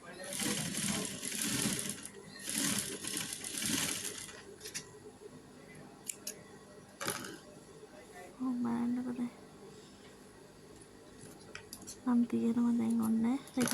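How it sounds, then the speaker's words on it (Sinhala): A sewing machine stitching a white-threaded pillowcase, heard as two short bursts of steady whirring near the end, after clicks and rustling handling of fabric, with a voice speaking earlier. "දැන් මේක මම හොඳ පිට හරවලා මහන්නේ උඩ නූල සුදු පාට නිසා."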